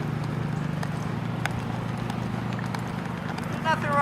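A horse canters in a dressage lesson, its hoofbeats falling in a steady rolling rhythm under continuous loud talk, with a brief rise near the end.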